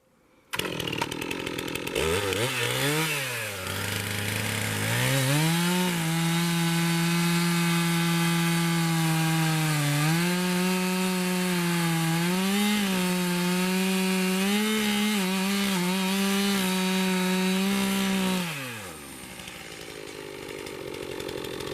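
A chainsaw cuts through the wood of the hinge while a tree is being felled. The engine roars close and loud for about sixteen seconds with slight pitch shifts under load, then drops back to a lower idle.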